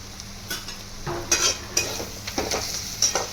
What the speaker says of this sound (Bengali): ধনিয়া গুঁড়ো দেবো 1 চামচ দিয়ে পেঁয়াজের সঙ্গে ভালো করে কষবো